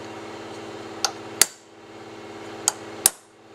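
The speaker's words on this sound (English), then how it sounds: "Get your center punch. Just dimple the casting" A steel center punch is struck four times to dimple the casting of a Chrysler, Dodge or DeSoto AC pump, producing sharp metallic taps in two pairs over a steady low hum, with no talk.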